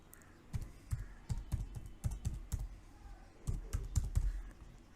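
A domain name typed on a computer keyboard: a quick, irregular run of close, crisp key clicks with short pauses, heard on its own without speech.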